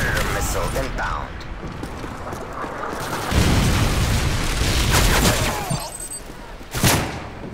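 A Predator missile blast in Modern Warfare 3 on the Seatown map lands as a rumbling boom amid game noise and gunfire, with a sharp crack near the end.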